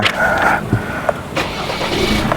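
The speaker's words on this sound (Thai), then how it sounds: "ขอสตาร์ทเครื่องเลยแล้วกัน" A Ford Everest Sport SUV engine is started close by, giving a brief mechanical turnover that settles into a steady, close car-engine rumble with a few small knocks.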